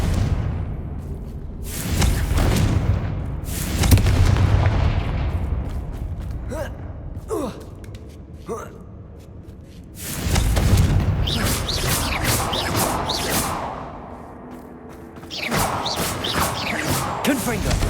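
Confringo fire-blast spells in the wizarding action game Hogwarts Legacy, booming bursts with whooshes and crackling debris that swell near 2, 4, 10 and 15 seconds over ongoing game ambience and brief vocal sounds.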